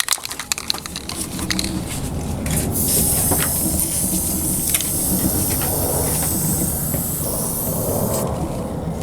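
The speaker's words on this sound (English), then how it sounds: "let's get some wax seal in there." Wax seal sprayed from an aerosol into the rear wheel arch of a Mk2 Volkswagen Golf, a steady close hiss that starts after a few clicks and handling knocks and runs continuously to the end.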